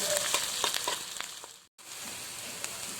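Onion, green chilli and garlic sizzle softly in oil in a pan, a low steady frying hiss with a few stirring scrapes, cut off by a short silent gap before resuming.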